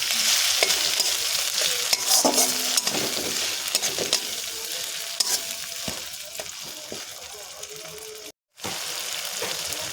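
Chili paste masala fries in a pan while being stirred, a steady close sizzle broken by scraping stir strokes and a few clanks, with a brief silent gap near the end.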